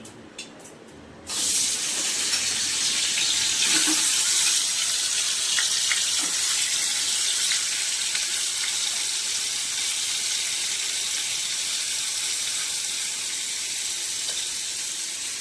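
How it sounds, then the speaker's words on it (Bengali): Paneer pieces fry in white oil in a pan, giving a steady, loud sizzling hiss that starts abruptly and continues evenly, close by and without speech. "এই সাদা তেলেতে পনিরগুলো ভেজে নেবো।"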